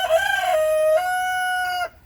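A single American Buckeye rooster crows loudly and close by, one long drawn-out call that rises, holds and then cuts off sharply.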